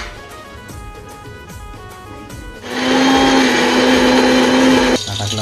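An electric mixer grinder whirs into a loud, steady high-pitched whine as it blends a wet paste of tomato, garlic, coriander and coconut, running for a couple of seconds after quieter kitchen clatter, then cutting off abruptly.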